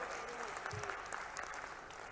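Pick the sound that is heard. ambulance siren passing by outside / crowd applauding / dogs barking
crowd applauding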